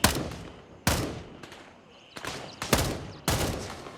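Gunfire in a shooter video game, with about six sharp shots spaced irregularly, each loud and abrupt with a short decaying tail, and no talk.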